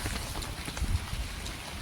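Steady evening rain patters outside in Kharkiv, a soft continuous hiss with faint low thumps and no voices.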